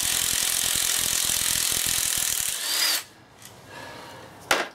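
An impact gun works loose bolts on a VW Passat gearbox in a garage, its loud continuous rattling hammering running close up for about three seconds before cutting off into quiet handling noises.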